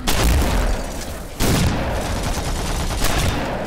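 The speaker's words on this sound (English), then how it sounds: "Thrown into the sci-fi phased plasma rifle mix is a pretty underwhelming shotgun." Shotgun blasts in the sci-fi first-person shooter Terminator Resistance: a loud booming report at the start, a second sharp blast near the middle and a third toward the end, each trailing into a sustained rumbling echo, with no voices.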